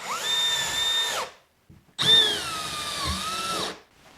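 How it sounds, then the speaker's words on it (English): A standard corded or cordless power drill drives screws into basement bedroom drywall in two sustained bursts, each winding up and slowing as a screw seats, separated by a short pause with a faint clunk, loud and close with no talking. "I'm gonna use just a standard drill so that I can get a little deeper into the drywall"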